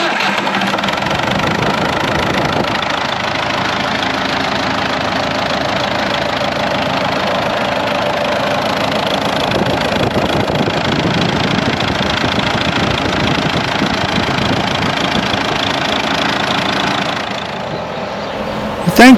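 A diesel engine runs at a steady, loud idle after its CAV injector pump was resealed, a continuous chugging drone with a slight knock that dips near the end.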